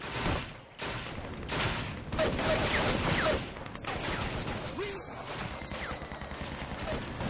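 Rapid AK rifle bursts from a Vietnam War shooter game, PS2 Shellshock Nam '67, repeat in dense volleys across the span, loud and close, with other gunfire and battle noise mixed in.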